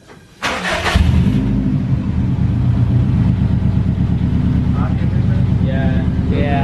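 A Subaru STI engine cranks briefly, catches and settles into a loud, steady, throbbing idle close by, with faint voices talking in the background.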